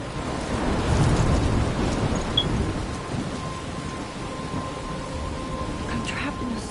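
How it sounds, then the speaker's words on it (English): A thunderstorm in the video game Life Is Strange: steady heavy rain hisses throughout while deep thunder rumbles loudest early on, then settles into a continuous low roar. "I'm trapped in a storm."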